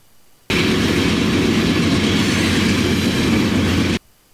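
A Norfolk Southern freight train led by a locomotive rumbles past, loud and close, in a dense steady roar of wheels on rail that starts abruptly and cuts off after about three and a half seconds.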